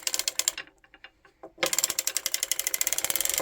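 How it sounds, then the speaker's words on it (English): An Erlbacher Gear circular sock knitting machine cranked by hand, a close rapid ratcheting clatter of rhythmic mechanical clicks that pauses briefly into sparse ticks, then resumes steady and even. "Cranking slowly so you don't drop any stitches"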